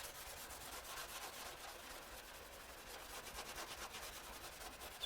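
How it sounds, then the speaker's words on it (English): Fine grade steel wool rubbing away decal residue on a barn-find car's body panel, a steady close scratchy back-and-forth scrubbing with quick repeated strokes throughout. "fine grade steel wool"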